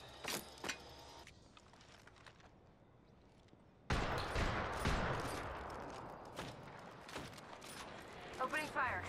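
Bursts of gunfire in Apex Legends, rapid shots and a loud sustained volley mid-clip amid game effects, fairly close, with scattered louder cracks toward the end.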